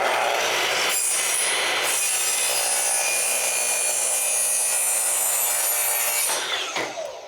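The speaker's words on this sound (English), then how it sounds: "clamp it down in place again, and we will be ready to cut." A power saw cuts through oak baseboard in one continuous loud, high whining cut lasting several seconds before winding down, heard close with no voices.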